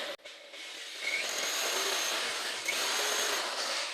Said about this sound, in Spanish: Hacemos fuerza sobre el sitio donde queremos que vaya la broca.